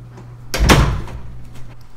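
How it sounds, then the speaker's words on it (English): A white door being shut during a PC build at home, a single firm thud close by, followed by a faint rattle and quiet room tone. "I didn't shut the white door, so look at that."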